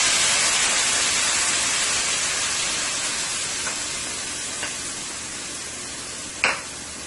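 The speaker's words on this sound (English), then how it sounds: "I am going to let my masala fry for about 5 minutes into my oil here" Masala sizzles in hot oil for a Guyanese beef and potato curry. The frying hiss is steady and bright and slowly fades, with a couple of small clicks and pops near the end.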